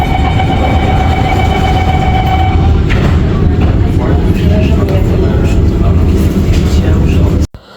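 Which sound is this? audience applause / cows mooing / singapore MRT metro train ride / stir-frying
singapore MRT metro train ride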